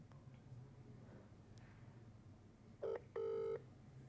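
Two bursts of a phone ringback tone, one short then one longer, heard faintly over a low background hum.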